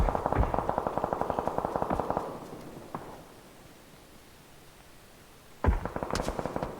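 Gunfire in the video game PUBG: a rapid volley of sharp cracks, then a lone shot and a quiet gap, and another burst of rapid shots near the end, moderately loud with no talk.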